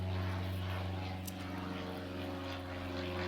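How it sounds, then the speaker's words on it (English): Old open-cockpit propeller biplane flying overhead, a loud continuous droning engine roar with steady low harmonic tones that stays constant throughout. "It's a really, really loud, loud, loud plane."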